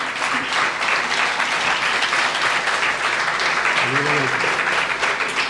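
A live audience claps through a tribute concert in Batumi, dense steady applause filling the space at constant loudness, with a few voices faintly calling out underneath.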